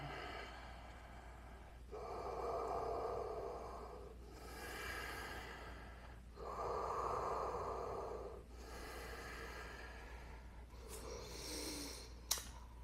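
Slow, audible breaths in a yoga class, long airy inhales and exhales alternating in roughly two-second swells, close to the microphone, with a faint steady hum beneath.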